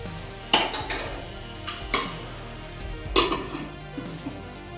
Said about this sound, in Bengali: এবার এটাকে আমরা ঢেকে দেব পাঁচ মিনিটের জন্য